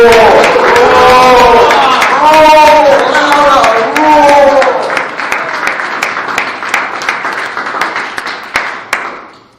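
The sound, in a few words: audience applause at a book launch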